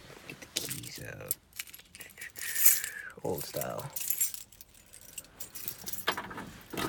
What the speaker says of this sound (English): So I'll just get the keys out.